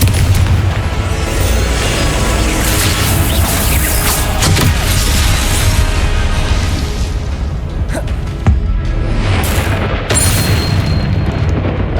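Confringo blasting spells exploding in the Hogwarts Legacy video game, heard as a dense run of loud booming blasts and crashes with sharp bursts and no talking.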